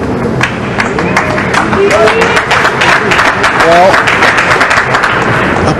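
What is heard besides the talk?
audience applause at pool championship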